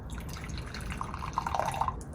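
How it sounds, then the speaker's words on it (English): Tea is poured into a cup as a quiet, steady liquid trickle, with brighter splashing near the end. "let's pour some tea."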